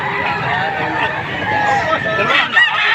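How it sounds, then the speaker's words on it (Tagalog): Roosters and chickens crowd a busy poultry market in Padre Garcia, Batangas, where dense overlapping crowing and clucking fill the air alongside steady crowd noise and people talking nearby. "ito po ang dalang manok ni sir"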